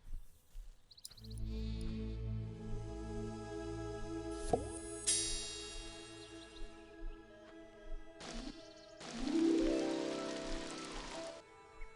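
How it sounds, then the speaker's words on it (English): Rain pattering on crops in the god game Black & White, a steady wash of drops mixed with in-game music tones and other game effects, swelling louder near the end. "Just like for raining on crops, basically."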